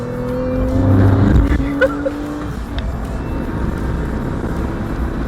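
A Porsche 911 4S is driven hard at full throttle on a German road near the Nürburgring, its engine note rising under load from inside the cabin, loud and continuous with a steady roar.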